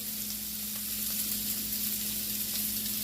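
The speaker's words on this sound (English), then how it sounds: "On there, I got onions on my grill" Salmon, pineapple and onions sizzle on a hot grill for a Brazilian steakhouse-style dish, giving a steady, close, even crackle with no voices.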